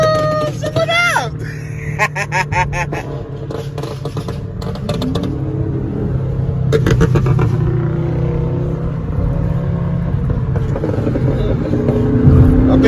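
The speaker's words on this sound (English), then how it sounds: "I think you want to play with these Hemi engines out here, Doc." Several Hemi-engined cars on a street at night, engines rumbling and revving loudly nearby with occasional rising throttle bursts, while people talk and shout over the engine noise throughout.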